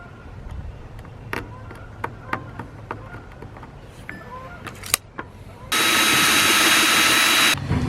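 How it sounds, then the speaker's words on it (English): Holes drilled for a DIY aquarium sump filter: scattered clicks and knocks as parts are handled, then a loud steady whirring drill run for about two seconds near the end. "I'm going to drill these holes"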